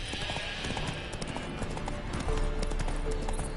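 Horse hooves clip-clop at a steady walking pace in The Witcher 3 video game, close and clear over a low outdoor ambience, with the rhythm continuing for the whole stretch.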